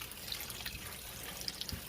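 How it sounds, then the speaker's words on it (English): Soft watery sloshing and faint drips as dyed yarn is massaged and rinsed in a pot of water, quiet and close with small splashes. "I'm just kind of massaging it through the water"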